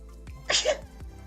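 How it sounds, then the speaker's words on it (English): A single sharp sneeze bursts out, close and loud, after a brief intake of breath, with quiet room tone around it. "I'm going to sneeze."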